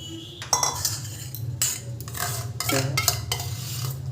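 A spoon scrapes and clinks against a steel bowl while a little sour curd is mixed and spread around inside it, giving close, repeated metallic strokes in an uneven rhythm.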